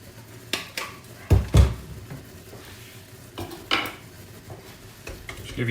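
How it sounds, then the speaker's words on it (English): A spoon scrapes and clinks against a pan while chocolate and butter are stirred over low heat, with a few louder knocks and clatters between softer scraping strokes. "Just give your chocolate and butter a little stir."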